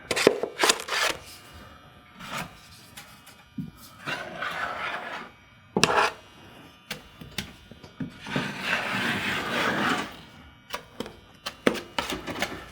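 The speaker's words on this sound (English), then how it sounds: "We're just gonna get mud on the corner." A drywall knife spreads joint compound into an inside drywall corner, top and bottom, giving repeated scraping and smearing strokes with sharp taps between them, close and fairly loud, with no speech.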